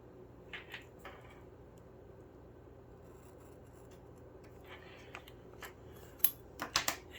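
Scissors cut through a sticker and washi tape with a few soft snips, faint and close, followed by a quick cluster of sharper snips near the end in a quiet room.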